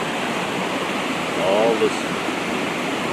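A waterfall on the Tyler's Fork River in Wisconsin gives a steady, full-bodied rush of falling water that fills the whole stretch, with a brief voice speaking faintly over it.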